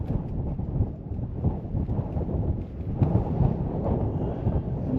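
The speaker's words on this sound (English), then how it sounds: "The wind is brutal right now." Strong outdoor wind buffeting a microphone on a farm in springtime, a loud, continuous low rumble that swells and surges steadily throughout with no clear speech.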